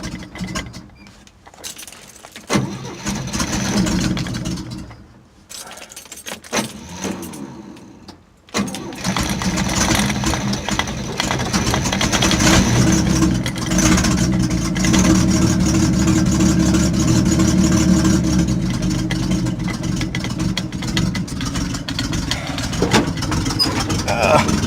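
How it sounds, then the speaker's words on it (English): A 1972 Chevy inline six cranks and runs with a failing starter Bendix, first in rough bursts with gaps, then settling into a steady, loud, close engine drone. Speech sits over the mechanical noise. "That's a Bendix going out. It's not the starter going out, it's just the Bendix."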